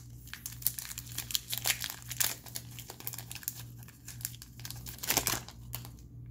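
A Pokémon Cosmic Eclipse card pack wrapper is torn open and handled up close, giving continuous rustling, crinkling plastic with bursts of tearing throughout.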